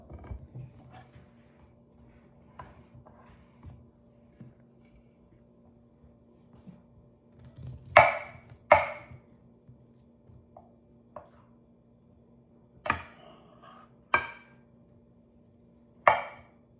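Knife slicing through a banana pecan pound cake with maple pecan glaze, several sharp crisp cutting and scraping strokes, close and fairly loud over a quiet kitchen background hum.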